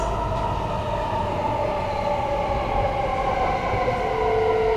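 A Stockholm subway train running between stations, with a loud steady rumble of wheels on track and rising whining motor tones close inside the carriage.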